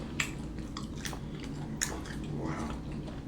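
Someone chewing crackers close to the mic, with a string of crisp, crunchy bites and jaw clicks spread over a few seconds against a low background.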